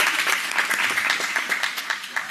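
Audience applause at a Sabbath service at the Great House of Yahweh, a dense, steady clapping that fills the whole stretch at an even, moderately loud level.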